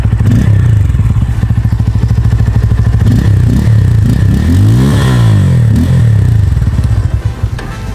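A loud, unmuffled 2024 Bajaj Pulsar N250 motorcycle engine with its stock muffler removed rumbles and revs, the pitch sweeping up and dropping back near the middle, then easing off at the end.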